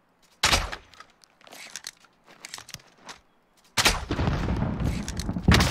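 Gunfire in a first-person shooter game: a sharp shot near the start, scattered softer pops, then a loud sustained burst of firing at the end, with no talk.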